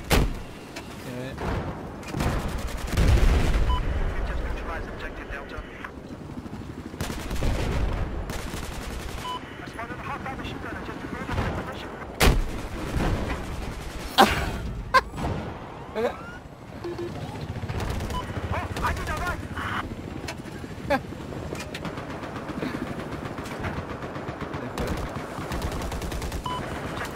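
Gunfire in the tactical shooter Squad on the Flood Zone map: repeated bursts of shots and sharp reports spread through the scene, some near and loud and others more distant, with vehicle rumble and voices talking over them.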